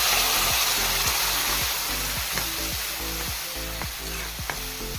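Mustard seeds and curry leaves are tempering in hot oil for a Kerala-style coconut chutney, giving a bright, steady sizzle with crackling pops up close. A regular low electrical hum runs underneath throughout.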